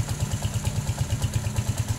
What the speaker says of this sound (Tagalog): Ito yung motor ni customer.